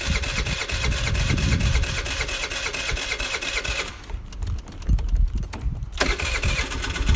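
A Chinese scooter engine, just after a carburetor cleaning, cranks and catches, then runs with an uneven, buzzing idle that briefly dips before picking back up, loud and close.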